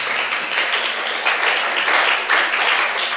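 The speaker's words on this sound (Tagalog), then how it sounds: "Palakpakan po natin ang ating Panginoon." A church congregation applauds in praise of the Lord, a steady, dense wash of clapping from many hands that carries on evenly for a few seconds with slight swells.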